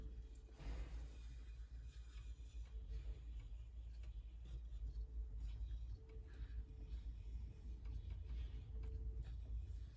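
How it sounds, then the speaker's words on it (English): The motor of a vintage Hawk HE-2150 reel-to-reel tape echo machine spins the pinch wheel, a faint steady low hum and rumble with light rhythmic ticking throughout, close and without talking. "So I'm going to use the pinch wheel, the motor, to help me clean the pinch wheel here."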